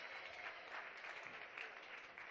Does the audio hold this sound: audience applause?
yes